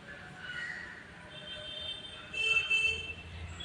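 A passenger train rolls along a station platform in Udhna, Surat, Gujarat, a faint steady rumble with brief metallic wheel squeals rising midway, heard from the platform without talk.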